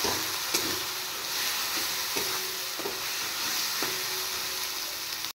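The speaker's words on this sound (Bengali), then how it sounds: "এবার একটু ফ্রাই করব।" Turmeric, chili powder and salt fry in a pan for fish dal, giving a steady close sizzle with faint stirring scrapes and taps every second or so.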